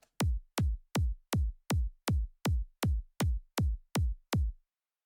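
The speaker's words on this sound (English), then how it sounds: "So this kick sounds like this" A dry, unprocessed UK hardcore kick drum thumps twelve times in a steady, fast rhythm, each hit a deep punchy boom with nothing else around it.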